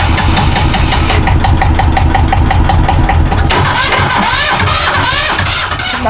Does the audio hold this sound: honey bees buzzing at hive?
no